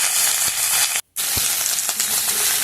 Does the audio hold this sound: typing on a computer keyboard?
no